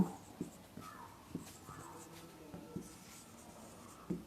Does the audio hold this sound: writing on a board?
yes